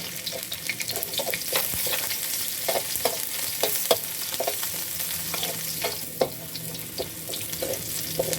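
Chopped garlic frying in oil in a pan, a continuous close sizzle broken by frequent light scraping stirs over several seconds.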